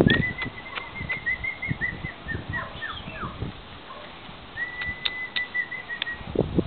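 A pet lovebird out in a yard gives bursts of high whistling chirps and trilled calls, with soft wing flutters and rustling close by.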